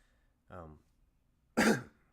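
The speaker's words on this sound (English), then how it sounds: "Sorry about that. I coughed." A single voiced sound followed a second later by one sharp, loud cough, close to the microphone, with silence around them.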